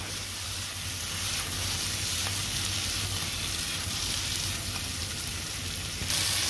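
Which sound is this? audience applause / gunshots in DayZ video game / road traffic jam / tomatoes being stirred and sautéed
tomatoes being stirred and sautéed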